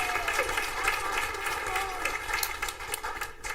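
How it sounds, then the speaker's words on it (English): Audience applause for presenters and Student of the Month nominees at a school board of education meeting, a steady dense round of clapping filling the room throughout. "can we give one more round of applause for our presenters and our Student of the Month nominees?"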